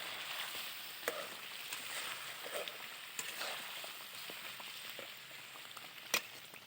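Curry sizzling and frying in a pot over a wood-fired stove, a steady soft hiss with occasional small pops and stirring clicks, fairly quiet and without talk.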